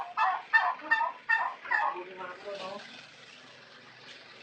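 A turkey gobbles in a quick run of loud, rattling bursts, then trails off into softer, murmuring calls.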